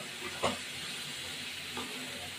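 Onion, garlic and ginger frying in a pan with prawns and young jackfruit, a steady close sizzling hiss broken by a couple of soft stirring knocks.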